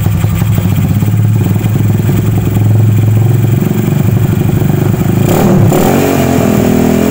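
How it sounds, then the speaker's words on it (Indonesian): A motorcycle engine with a GL Max stator and an N-Max regulator, held at about 3000 rpm, a loud, even mechanical drone close by, then a brief dip and change in pitch near the end. "Kita gas dikit di 3000 rpm."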